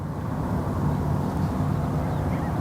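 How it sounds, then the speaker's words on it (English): The horn of the MSC Darlene container ship on the Westerschelde in the Netherlands sounds as a deep, steady drone, sustained and fairly loud for the whole stretch. "Yes, that horn you heard was the MSC Darlene."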